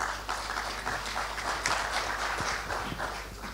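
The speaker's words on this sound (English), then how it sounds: "Another round of applause for the acting mayor" An audience at the opening of an agro processing plant in Rietfontein applauds the acting mayor, giving a dense, steady patter of many hands over a low hum.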